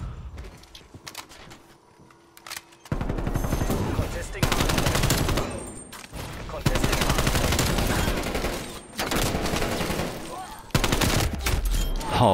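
Rapid automatic gunfire from a multiplayer shooter video game, loud sustained bursts of shots in several long volleys broken by short pauses, with players talking between them.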